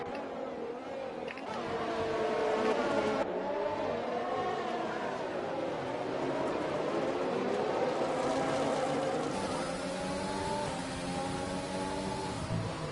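A race car engine in the Codemasters F1 video game drones continuously with rising and falling revs, its tone oddly muffled and gurgling as if running through water, with no voices over it.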